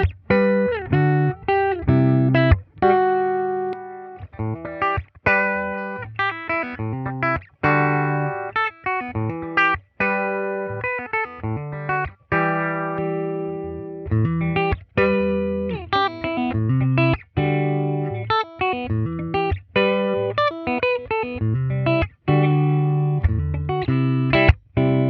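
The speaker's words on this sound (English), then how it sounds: "Pretty good distortion sound." Fender Blacktop Jaguar HH electric guitar played through heavy distortion, a run of crunchy chords and riffs with sharp attacks and brief pauses, loud and close with no voices.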